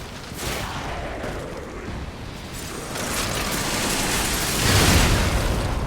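Cannon fire in the Lies of P video game, a series of broad booming blasts that build into a loud, rumbling explosion toward the end, dense and continuous rather than single clean shots.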